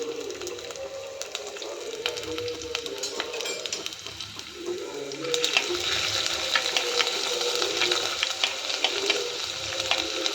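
Crushed ginger frying in oil for a Kerala-style fish pollichathu, a crackling sizzle with light stirring clicks that swells louder and denser about halfway through.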